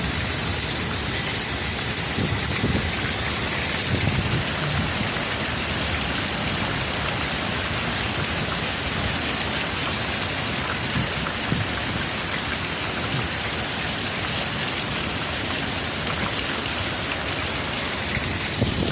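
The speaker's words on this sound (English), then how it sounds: "Now it's just dropping rain" Heavy rain pours steadily and loudly, a dense continuous hiss with no pauses or voices.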